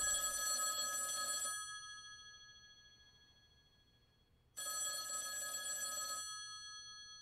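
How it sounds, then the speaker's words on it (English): A telephone bell rings in two long bursts separated by a few seconds of quiet, fairly close and clear, with no voices. "that phone over there is gonna ring"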